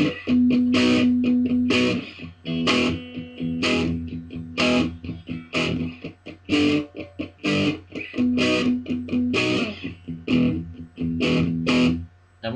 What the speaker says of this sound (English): Then guitar two sounds like this.